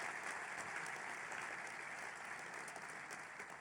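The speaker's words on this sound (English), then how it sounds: "Can we please give them a big round of applause this morning?" An audience at an annual breakfast gathering applauds in a steady, even wash of clapping that sounds somewhat distant and soft, with no talk over it.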